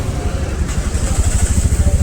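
A motorcycle ridden along a local road, its engine putting out a steady, close, pulsing thrum for a couple of seconds with no break.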